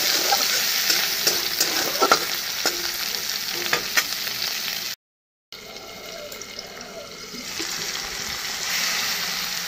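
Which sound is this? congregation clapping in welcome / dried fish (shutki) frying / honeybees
dried fish (shutki) frying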